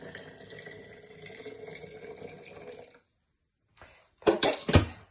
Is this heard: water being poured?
yes